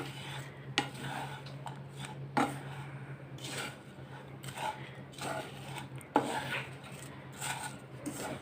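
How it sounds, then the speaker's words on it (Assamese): Grated coconut and jaggery are stirred and fried in a pan, with soft scraping strokes and occasional sharper clinks of the utensil against the pan, faint and unhurried. "গুৰখিনি নাৰিকলৰ লগত ধুনীয়াকৈ ভাজ খোৱালৈকে মই লাহে লাহে লৰাই ভাজি ল'ম।"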